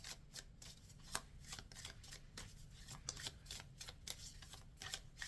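Tarot cards are drawn and handled from a deck, giving repeated soft papery flicks and light taps in an uneven rhythm. The sounds are close and faint, with no voice over them.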